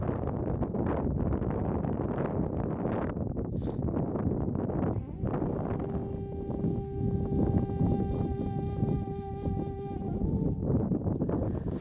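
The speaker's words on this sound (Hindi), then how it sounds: "बहुत ज़्यादा तेज़ हवा चल रही है यहाँ पे" Strong gusts blow across a high mountain lake on the Kashmir Great Lakes trek, battering the microphone with a loud, continuous rumbling roar, and steady tones sound over the wind in the second half.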